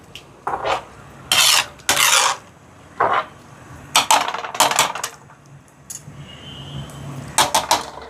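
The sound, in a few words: stirring lentils (dal) in a cooking pot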